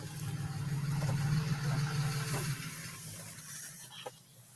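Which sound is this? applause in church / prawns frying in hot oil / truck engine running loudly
truck engine running loudly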